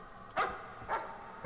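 A dog barks in the horror video game Layers of Fear, three sharp, distinct barks spaced about half a second apart, moderately close and with no talking.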